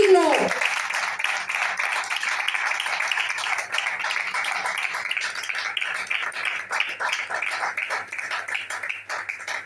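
A church congregation claps together, a dense, sustained wash of many hands clapping close and loud across the room, holding steady without a break.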